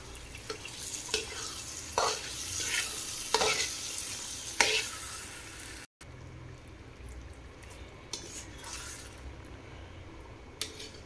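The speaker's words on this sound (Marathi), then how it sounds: "आता हे आपण त्या भाजीमध्ये मिक्स करणार आहोत" Mashed pav bhaji vegetables are stirred in a pan after leftover cooking water is added, giving soft, intermittent scraping and wet stirring sounds at low volume with a brief pause midway.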